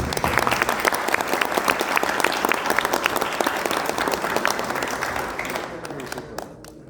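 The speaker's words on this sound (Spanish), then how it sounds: "vamos a darles un fuerte aplauso" An audience at a conference on digital substations gives sustained, dense applause that starts loud, then slowly thins and tapers off near the end.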